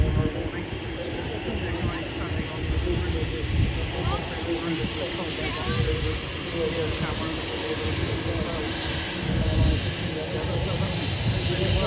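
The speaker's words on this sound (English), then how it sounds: "Another TUI 737 MAX then follows the one we have just seen, taxiing earlier, also heading obviously to the airport terminal" A TUI Boeing 737 MAX taxis at Manchester airport, its jet engines a steady broad roar and hiss at moderate distance, with a voice speaking over it throughout.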